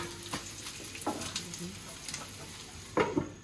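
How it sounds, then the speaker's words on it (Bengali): Roti flatbread frying in a hot pan, a steady soft sizzle with a few sharper scraping or stirring clicks spaced across the short stretch, close and fairly quiet. "এদিকে যে রুটি ভাজা হইতেছে"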